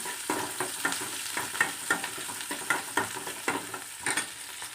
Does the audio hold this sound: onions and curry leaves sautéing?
yes